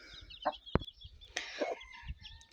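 Shamo game hens in a farmyard, soft scattered clucks and short calls close by with a sharp peck or tap, alone without talk.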